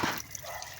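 Cold water runs from a household tap, a soft steady splashing and trickle close by, brief and unbroken, with no voices over it.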